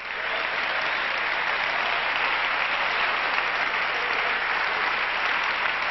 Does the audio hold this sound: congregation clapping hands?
yes